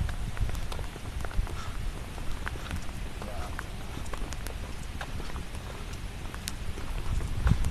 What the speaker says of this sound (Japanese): 雨がすごいんですけど